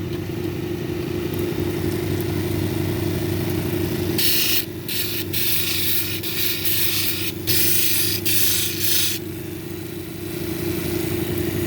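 A lapidary polishing machine hums steadily while a 600 grit disc works an agate cabochon. A harsher hissing grind comes and goes in several bursts as the stone is pressed on and lifted off, with no talking.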